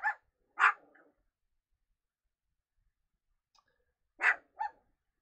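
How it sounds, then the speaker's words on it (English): A dog barks indoors in a classroom, two sharp barks, a pause of silence, then a faint yip and two more barks, fairly close and alone without speech. "I don't know why she wants to be in here and then bark at everything while I'm trying to teach classes."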